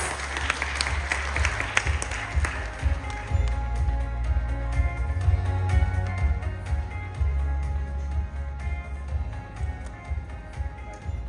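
A conference hall audience at a leadership and women's professional awards event applauds steadily for about eleven seconds, a dense wash of clapping over a low rumble, fading slightly toward the end.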